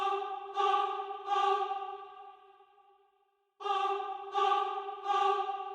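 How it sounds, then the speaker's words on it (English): Staccato choir sample from Choir Omnia singing a clipped A vowel, sung notes arriving in two groups of three separated by a pause, with a reverberant tail fading between them, loud and clear without speech. "I chose a staccato choir"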